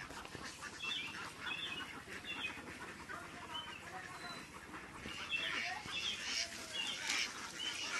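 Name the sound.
ducks in a duck farm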